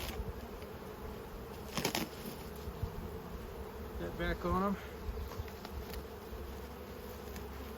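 Honeybees drone in a constant, close buzz at a backyard beehive in a bee yard, with a brief spoken voice partway through.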